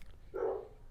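A single short dog bark rings out at a moderate distance indoors, a brief muffled woof over quiet room hum, with no voices during it.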